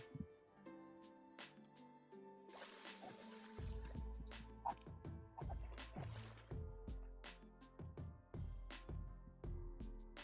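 Water drips in Minecraft, with many sharp plinking drops in an irregular rhythm over a steady low game ambience, fairly close and continuing throughout.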